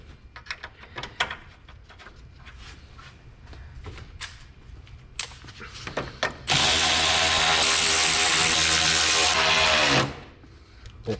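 Power tools bolting a fan back onto a Pontiac 6000 wagon with a supercharged 3800 engine: clicks and clanks of parts, then a loud close buzz of a driver running for several seconds before stopping.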